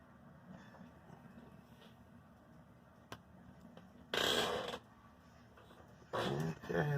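A small 280 motor in a Blue Box F45 model locomotive twitches under DCC decoder readback, giving faint low buzzing over background hum with a short click, then two loud rasping bursts of a second or so each.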